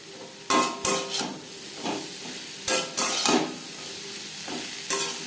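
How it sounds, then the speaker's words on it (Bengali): Potatoes and onions fry in a pan with turmeric powder while being stirred, giving a soft sizzle broken by several sharp scrapes and clinks of the spatula, alone with no voices. "পেঁয়াজের সাথে আলু বেশ ভালো করে মিক্স করে দেবো"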